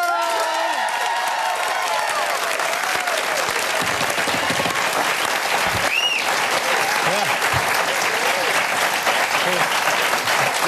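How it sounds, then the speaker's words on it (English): A TV studio audience applauds and cheers loudly for Formula One driver Daniel Ricciardo, with a dense, sustained wash of clapping, scattered whoops and a host's voice speaking briefly through it. "That's almost Kylie levels of applause."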